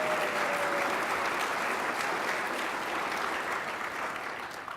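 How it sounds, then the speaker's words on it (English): Steady applause from an audience at a university gala, dense and continuous, fading slightly toward the end with no talk over it. "deserve a big round of applause for their efforts in that area"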